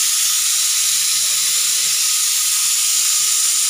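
Dried red chillies sizzling in hot tempering oil, a steady, close, even hiss with no pauses and no voices.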